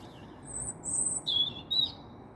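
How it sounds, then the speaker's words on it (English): Birds sing in a garden at dawn, a few bright, short chirps and whistled calls rising over a soft, steady background hush. "I wanted to share with you the birds this dawning and introduce you to the sounds of my new garden."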